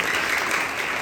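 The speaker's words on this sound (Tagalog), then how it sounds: "Muli po isang palakpak po sa Panginoon." A church congregation at a morning worship service bursts into applause, a dense, even wash of clapping that stays loud across the whole short moment.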